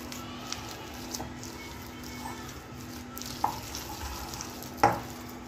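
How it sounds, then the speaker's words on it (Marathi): A spoon stirs a prawn marinade mixture in a pan with a low background sizzle. A few soft scrapes and one sharper clink near the end are heard close up, without speech. "आता हे व्यवस्थित मी मिक्स करून घेऊया."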